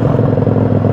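A Yamaha V Star cruiser motorcycle exhaust burbles loudly at idle, a steady, throbbing low rumble with a rapid, even pulse.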